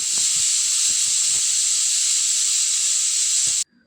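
A pressure cooker whistle blasts a loud, continuous hissing jet of steam while cooking lentils with moringa leaves; soft knocks sound beneath it before the hiss cuts off abruptly near the end, leaving quiet.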